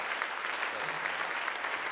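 A luncheon crowd at a rail project program gives a sustained, dense round of applause, even and continuous throughout.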